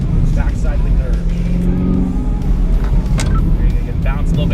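A car drives laps on the racetrack at Spring Mountain Motor Resort, its engine a low, steady drone that holds beneath a voice talking over it.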